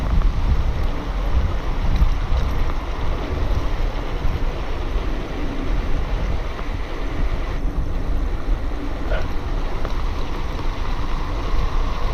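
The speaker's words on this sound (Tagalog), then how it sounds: "ang lakas ng hangin" Strong wind roars steadily into a microphone fitted with a foam wind shield, a dense low rumble and buffeting that stays loud the whole time with no pauses.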